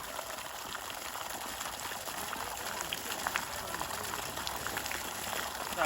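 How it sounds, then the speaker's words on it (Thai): Water gushing steadily from the 2-inch pipe of a 2 hp submersible pump drawing from a 40-metre-deep well, a continuous, dense, hissing rush with no pauses. "ไหลแรงดีนะครับ เต็มท่อบึ้บเลยนะครับ"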